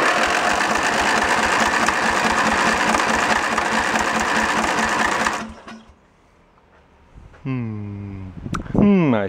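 A tractor engine pieced together from two junk machines runs with a fast, loud, rattling chatter for several seconds, then cuts out; a voice follows afterward.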